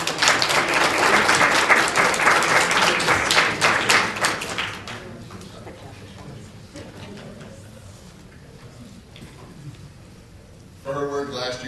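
A conference audience applauds loudly with dense clapping for about five seconds, then it fades into quieter room noise and murmuring.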